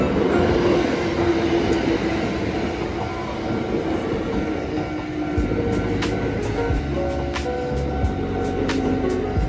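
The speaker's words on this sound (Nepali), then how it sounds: "ट्रेन जाँदैछ" A train rolls past continuously, a loud rumbling roar with rhythmic low clatter from the wheels growing heavier partway through.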